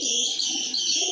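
A pigeon kept by a pigeon fancier gives a short, soft coo, heard close and alone with no talking, over a brief low murmur.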